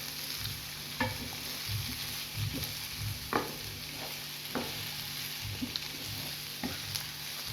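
Onions fry in a pan with a constant crackling sizzle, broken by occasional scraping stirs and light clinks of a utensil against the pan. No one speaks.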